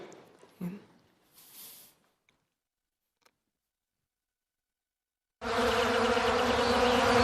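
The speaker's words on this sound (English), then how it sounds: "The sound of bees is therapeutic to me." Bees buzz in a loud, close, steady drone that starts abruptly and continues unbroken after a few faint earlier noises and near silence.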